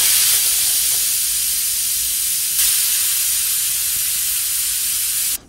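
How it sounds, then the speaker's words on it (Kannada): A pressure cooker with its whistle removed, steaming cauliflower on a home stove, jets out a loud, steady hiss of steam that runs close and unbroken before cutting off abruptly at the end. "ಖಾಲಿ ಕುಕ್ಕರ್ಗೆ ಕಾಲಿಫ್ಲವರ್ ಹಾಕ್ಕೊಂಡ್ಬಿಟ್ಟು ವಿಜಿಲ್ ತೆಗೆದುಬಿಟ್ಟು ಇಡೋದು ಅಷ್ಟೇ."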